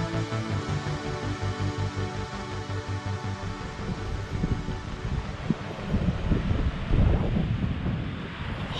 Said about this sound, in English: It's just so damn windy, sand going everywhere.